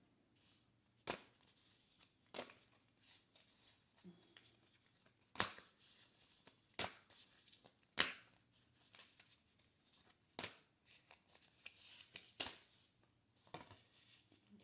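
Tarot cards being shuffled and handled close up, a series of crisp riffling and snapping bursts at irregular intervals, with quiet gaps between them.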